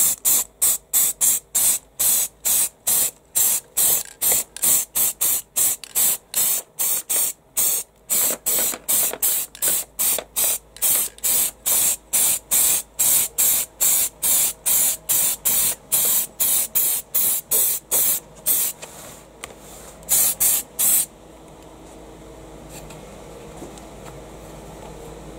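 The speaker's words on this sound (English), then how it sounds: "Let us spray the bases." Long series of sharp spray paint bursts onto miniature bases, evenly repeated in quick rhythm, close and loud, ending in a quieter steady hiss.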